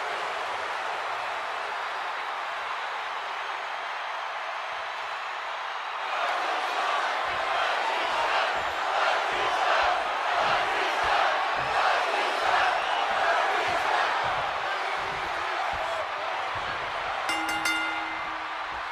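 Arena crowd in the WWE 2K26 wrestling video game swells into loud cheering and chanting after a quieter stretch, sustained and roaring, with a bright chiming tone near the end.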